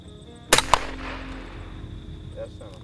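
A rifle shot fired outdoors at night while hunting possums, one loud close crack quickly followed by a second sharp report and a decaying echo, with a faint steady hum and a soft voice afterward.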